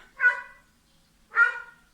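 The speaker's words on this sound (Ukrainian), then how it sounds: "Собака гавкає." A dog barks twice outdoors in a rural yard on a hot day, each bark a short, moderately loud burst about a second apart, with quiet in between.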